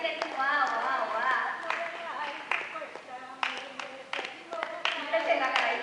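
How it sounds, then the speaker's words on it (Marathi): People at a club's fancy dress event clap in short, uneven bursts, with a voice speaking over the applause nearby. "टाळ्या द्या बांधवी बागवानांना."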